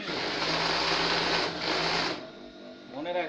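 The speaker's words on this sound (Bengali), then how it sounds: "এই দেখুন এইভাবে ধরে এখন হলো রাবারের উপর দিয়ে সেলাই।" A sewing machine runs steadily, stitching salwar cloth over an elastic band, with a brief pause mid-run and a quieter stretch near the end as a person talks over it.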